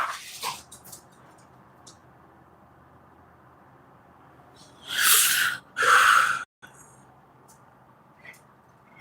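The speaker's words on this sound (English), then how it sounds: "Homie, you hear my dog?" A dog nearby gives a couple of quick snorting, sneezy bursts in the middle of a quiet stretch, with faint background noise and small scattered sounds around them.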